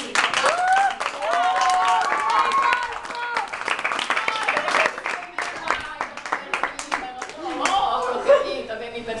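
Sustained clapping from an audience at a high school graduation speech, dense applause lasting several seconds before thinning into scattered claps, with voices and chatter mixed in.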